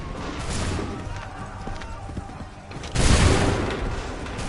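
Musket volley in Assassin's Creed III, with a broad burst of massed gunfire at about three seconds over a continuous battle din with hoofbeats and shouting voices.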